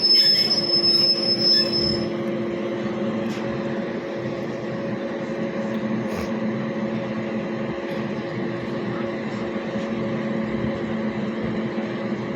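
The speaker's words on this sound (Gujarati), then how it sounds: "ટ્રેન તો આવી ગઈ છે, પણ અમારી નહીં. આ ખાલી આગળનું મેઇન એન્જિન બદલે છે." A train pulls into a station while its front main engine is being changed, with long, loud metallic wheel squeal over a steady rumble that continues unbroken throughout, with no talk.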